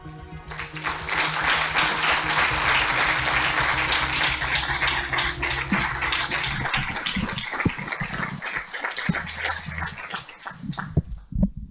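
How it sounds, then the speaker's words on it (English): Applause from a graduation ceremony audience, a dense, steady wash of clapping that holds loud for most of the stretch and thins toward the end, with a few scattered louder claps. "I want really that we give a second round of applause to Lara that did the video."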